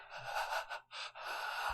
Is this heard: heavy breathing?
yes